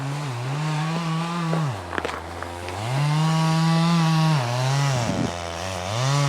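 Chainsaw cutting up firewood in snowy, ice-covered woods, the engine revving high while biting through logs and dropping back to idle between cuts, loud and close with small knocks of wood, no talking.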